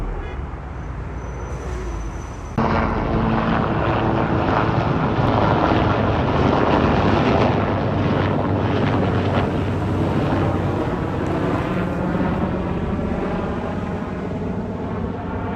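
An aircraft flyover makes a loud, broad roar. It swells suddenly and stays steady for several seconds, with wind buffeting the microphone throughout.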